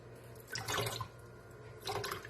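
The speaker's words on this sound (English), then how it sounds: "You're gonna rinse it with some distilled water" Surgical instruments are rinsed with distilled water, giving a faint splashing trickle in two short bursts over a quiet background.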